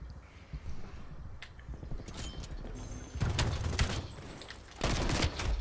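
Pistol fire in Call of Duty: Black Ops Cold War, scattered sharp shots and short bursts, moderately distant, mixed with other gunfire in a busy match.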